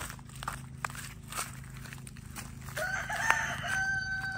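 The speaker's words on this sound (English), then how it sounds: "I'll show you the chickens real quick" Chickens crowing and clucking near a coop, with footsteps and rustling moving around in the background.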